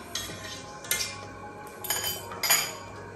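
A fork clinks and scrapes against a pot while poking cooked white choko, a few distinct metallic taps and rattles spaced over a few seconds, close and clear with no voices.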